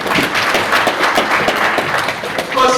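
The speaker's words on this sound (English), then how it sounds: "Can we clap for them?" A graduation audience claps in a brief burst of scattered applause that fills the hall, fairly loud and close.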